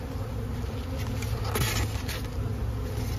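Dense, steady buzzing of honeybees at a hive with a single brood chamber, a continuous close hum with no talking.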